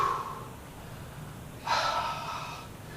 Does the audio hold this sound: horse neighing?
no